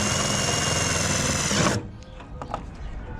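Power drill driving a self-tapping screw through a tailgate to mount a light bar, a loud close whirring burst that cuts off abruptly, then a few light clicks and handling sounds.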